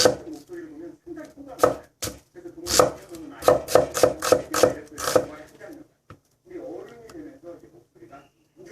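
Rapid knife chopping on a cutting board in quick bursts of sharp taps, close by, with a person talking in between.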